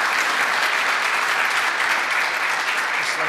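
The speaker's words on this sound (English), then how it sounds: "Big round of applause for Chris." Warm, sustained applause from a conference audience at a TV and video industry summit, steady dense clapping filling the room throughout.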